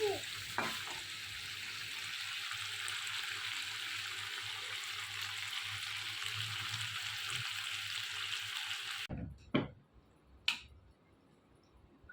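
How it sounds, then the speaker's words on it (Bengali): Chicken sautés in a pan on a gas stove with a loud, steady sizzle that cuts off abruptly. Quiet room tone follows, with a couple of sharp knocks and clicks. "চিকেনটা এখানে হচ্ছে কষানো হচ্ছে"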